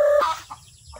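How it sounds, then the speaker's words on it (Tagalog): Native chickens kept by a grandfather in a rural Philippine yard cluck in a short close burst, a sharp call followed by a couple of softer clucks fading out. "Yan yung mga alagang mga manok ng lolo ko dito"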